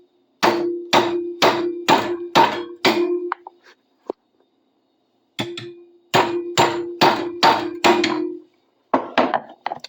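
Rapid, sharp hammer blows ring out in two quick series of about six strikes each, loud and close, with a short pause between and a few trailing taps.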